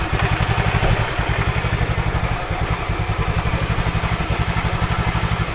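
Honda Vario scooter engine running with no battery fitted, a close, loud, steady idle with fast even pulsing thumps that holds throughout.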